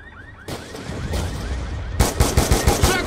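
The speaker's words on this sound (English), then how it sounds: "We're taking fire from snipers on the overpass." Gunfire in the video game Call of Duty: Black Ops II, a roll of shots that swells into a fast automatic burst of sharp, loud cracks near the end.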